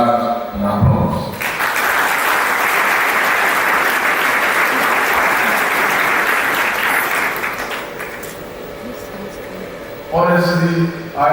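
Matriculation ceremony audience breaks into sustained applause that rises sharply, holds steady for several seconds and then fades, with a voice speaking briefly before and after.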